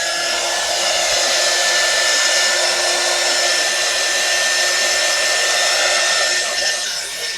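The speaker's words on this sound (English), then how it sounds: "let me put this little heat gun on it" A small heat gun blows steadily on a junk journal page, drying the paint with a continuous, even whooshing hiss that stays close and unbroken throughout.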